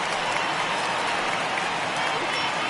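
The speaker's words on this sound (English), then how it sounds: "So he receives a nice ovation from this home crowd" A home crowd at a 2019 MLB game, Astros at Rays, gives a departing starting pitcher a sustained ovation of dense, steady applause, with a broadcast voice talking over it.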